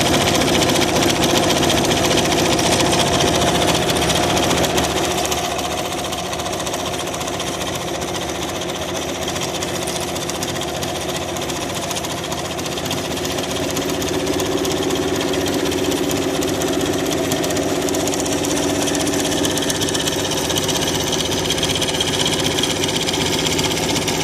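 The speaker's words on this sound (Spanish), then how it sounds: "de la máquina con lo que estamos cosiendo" A sewing machine stitches macramé placemats, its motor running in a continuous, fairly loud mechanical whir. The hum is steady throughout, easing slightly after the opening seconds, and no one speaks.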